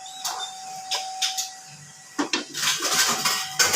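A metal wok is set down on a home kitchen stove, giving a few light clanks and scrapes of metal on metal, close and fairly loud, with a steady faint hum underneath.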